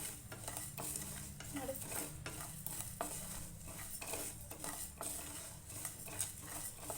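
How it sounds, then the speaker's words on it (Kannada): A spatula scrapes and stirs through a dry pan in steady, rhythmic strokes, quiet and close, with light metallic clinks, as spices dry-roast for rasam. "ಈ ಥರ ಒಂಚೂರು ಘಮ ಬರೋವರೆಗೂ ಒಂಚೂರು ಹುರ್ಕೊಳೋಣ"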